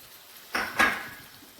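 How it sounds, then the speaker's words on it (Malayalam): Beaten egg hits a hot pan for a street-style kothu parotta and gets stirred, giving a short sizzling splash and a second scraping burst over about a second, then fading. "ഇനി നമുക്ക് ഇതിനകത്തേക്ക് ഒഴിച്ചു കൊടുത്തൊന്ന് ചിക്കി എടുക്കണം"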